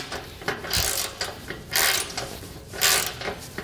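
A ratchet wrench fully tightens the bolts on the V-style boat carriers of a Malone EcoLight Sport trailer. It makes three close bursts of rapid clicking with short pauses between them, and no one speaks.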